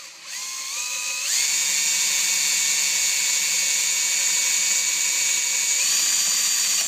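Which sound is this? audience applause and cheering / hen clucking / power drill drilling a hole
power drill drilling a hole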